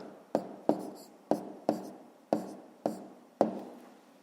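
A pen writing down an answer to a fifth-grade math exercise makes seven crisp, evenly spaced strokes on paper, each a sharp tap that fades quickly, close and quiet with no talking.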